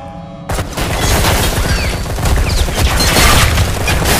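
Continuous gunfire and booming shots from the video game Antillia: Deep Black, loud and dense after a brief quiet start, with sustained bursts throughout and no talk.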